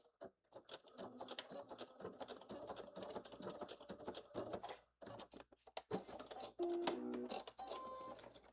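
A sewing machine backstitches a sleeve seam on a Simplicity 9825 blazer, running in quiet bursts of rapid stitching with brief pauses, close and fairly faint.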